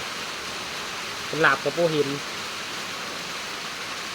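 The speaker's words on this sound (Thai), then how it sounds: "ช่วงนี้ก็ฝนตกได้ยินแต่เสียงฝน" Steady rain falls in a continuous broadband hiss throughout, with a brief spoken phrase partway through.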